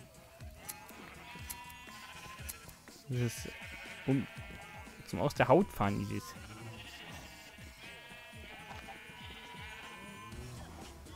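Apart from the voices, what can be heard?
sheep bleating in the video game Minecraft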